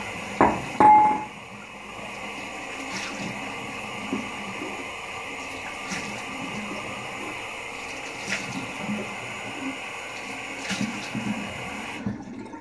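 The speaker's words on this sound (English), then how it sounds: "Cold water rinse." Cold water splashing onto a face after a shave, a few sharp wet slaps near the start, then a steady running-tap wash continuing underneath for the rest.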